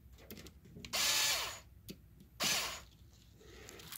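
A Makita power drill whirs in two loud bursts, driving screws out of an OEM Tools 20 Volt 1/2-inch impact driver during a teardown, with some clatter between the runs.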